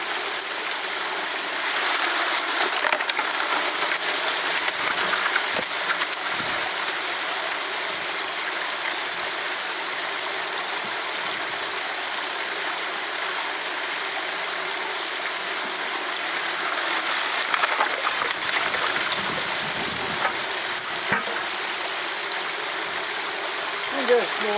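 Water washing volcanic alluvial gravel through a sluice: a steady rushing stream that runs continuously at an even, fairly loud level, with faint gravelly rattles and splashes.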